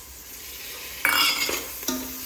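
Palak soya pulao ingredients fry in a pan, with a steady sizzle and a few sharp spatula scrapes and stirs, close up, with no talking.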